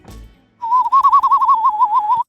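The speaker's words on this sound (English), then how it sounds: "it's a bird clock, and on the hour, it makes the sound of the birds" A bird clock chimes the hour with a loud, warbling whistled birdsong that trills steadily for about two seconds after a faint thud.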